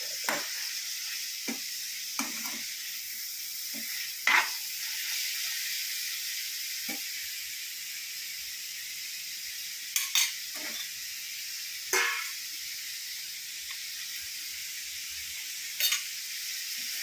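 Jackfruit seeds stir-frying with curry leaves, garlic and salt in a Kerala-style mezhukkupuratti: a constant close sizzle and hiss, broken by occasional scraping stirs of a spoon against the pan.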